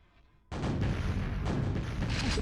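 Rocket launcher fire and blasts in a QuakeWorld 2on2 deathmatch, a sudden loud burst that keeps up a dense, booming roar of explosions and gunfire to the end.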